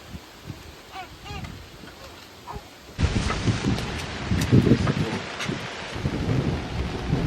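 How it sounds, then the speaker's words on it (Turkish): Steady rain patter on a camper van by a lake spreads into a dense, louder wash partway through, with low rumbling underneath and soft scattered voices early on. "Yağmur başladı bile."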